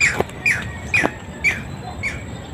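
A tikling, or barred rail, gives five sharp, squawky call notes at a steady half-second rhythm, fairly close, over a low rumbling outdoor background.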